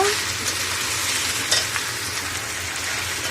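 Vegetables for khichuri fry in hot oil with a loud, dense, close sizzle, broken by a few stirring scrapes, with no voices.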